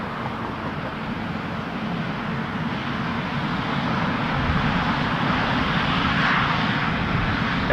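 A passenger jet lands at Toronto Pearson Airport on runway 24 right, its engine roar steady and loud throughout, swelling slightly as it nears, with faint wind and background noise.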